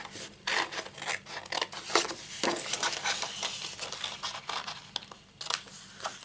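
Scissors cut through Stampin' Up Very Vintage patterned designer paper up close, a continuous run of rapid snipping and rustling strokes as a shape is cut out during papercrafting.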